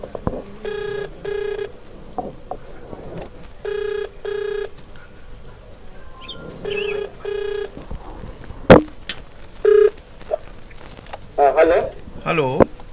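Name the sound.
telephone number being dialed, keypad tones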